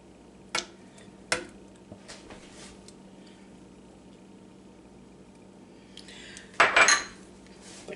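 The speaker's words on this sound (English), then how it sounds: "But keep stirring. Stir the entire time." A utensil stirs an egg yolk cake filling in a pot over low heat. A few sharp metallic clinks sound against the pot, with a louder burst of scraping and clattering near the end, all with no talk.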